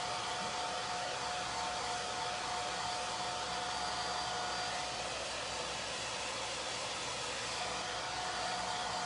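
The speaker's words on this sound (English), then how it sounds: "hair dryer" Hair dryer blowing steadily and close on a chalk transfer stencil, a continuous broadband whoosh with a faint motor whine, no talking.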